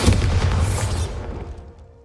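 A loud booming blast from the Bombarda explosion spell in Hogwarts Legacy erupts up close, then fades into a rumbling decay.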